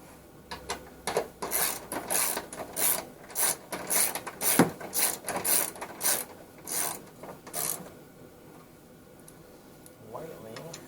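Ratchet wrench snugging bolts on a 2008 Volvo XC90 engine torque mount, a quick series of sharp rhythmic clicking strokes close up, followed by quieter handling noise.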